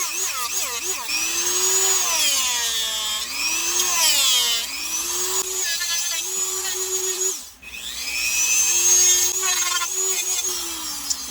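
A rotary sanding drum in various grits shapes the edges of a Kydex knife sheath, whining steadily with repeated rising and falling pitch sweeps as it bites and lifts off, loud and close, with one brief pause near the middle.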